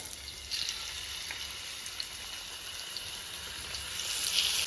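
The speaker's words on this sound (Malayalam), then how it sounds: "ഈ ചെമ്മീൻ ഒന്ന് ജസ്റ്റ് ഒന്ന് എണ്ണയിലിട്ടൊന്ന് എടുക്കണം" Prawns frying in coconut oil in a pan for a Kerala-style prawn roast, a steady soft sizzle with a faint crackling hiss throughout, growing slightly louder at the end, no talking.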